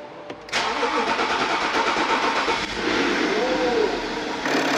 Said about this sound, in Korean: 엔진 소리 굉장히 조용하네